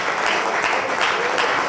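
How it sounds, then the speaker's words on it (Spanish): A congregation applauds in an ovation during a men's fellowship church service, a steady wash of clapping filling the room for a short burst with no voices standing out. "¿Le quiere dar una ovación al Señor?"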